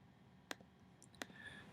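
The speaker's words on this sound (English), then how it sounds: "I'm just going to click it so I can drag a copy." Two quiet, sharp computer mouse clicks about seven-tenths of a second apart, close up against a faint background hush.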